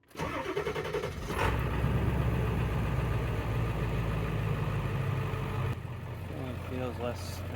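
A Ford E350 van engine cranks briefly and catches, then settles into a steady, loud, low idle that runs throughout, with a short burst of talk near the end.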